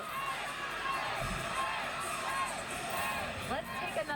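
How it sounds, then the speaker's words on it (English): A college women's gymnastics crowd, Pittsburgh vs Clemson, cheering and whooping loudly in an arena after stuck dismounts, with high shouts and cries rising over a steady roar throughout. "It is loud in here. Everyone is cheering for those stuck dismounts."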